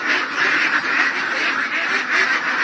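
A flock of ducks in a newly renovated duck house quack steadily and loudly, their nasal calls overlapping in a dense, continuous chorus close by.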